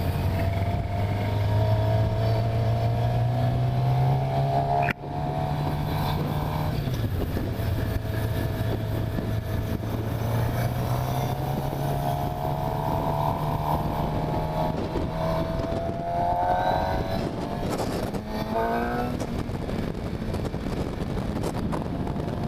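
A 2015 Suzuki GSX-R750 motorcycle engine holds a steady droning note while ridden in second gear through a corner. The pitch climbs and dips with throttle changes, close and loud throughout, with strong rushing wind behind it and no speech.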